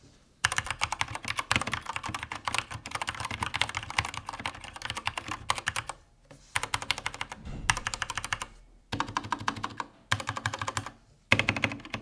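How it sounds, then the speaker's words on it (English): Typing on an AKKO 3068 mechanical keyboard with Cherry MX Red switches makes rapid, close, continuous key clacks in several long bursts separated by brief pauses. "Here's a quick sound test of what this keyboard sounds like."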